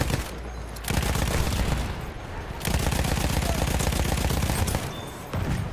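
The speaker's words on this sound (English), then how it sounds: "This guy's shooting at us." Battlefield 1 gunfire, long sustained bursts of rapid automatic shots with brief pauses between strings, loud and close, layered with dense battle noise.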